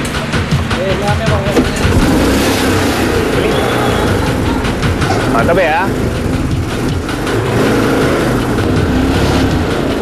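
A kuliglig hand tractor's engine runs loud and steady for the whole stretch, a dense chugging drone with people talking over it.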